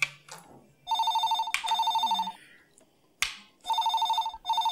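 A home telephone rings indoors in a TV serial, sounding in bursts of bright electronic trilling separated by short gaps, close and loud, with a few brief knocks and rustles between rings.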